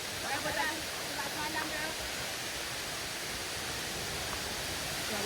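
Steady broadband rush of the level 6 waterfall on Sungai Kanching in Rawang, Selangor, a continuous even roar with no breaks, fairly loud and close, with no talking.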